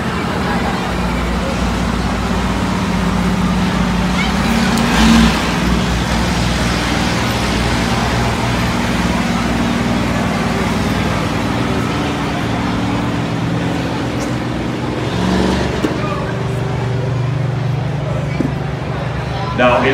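School buses race around a track, their engines roaring and revving loudly in a continuous din, with swells as buses pass close by and a commentator speaking over the noise.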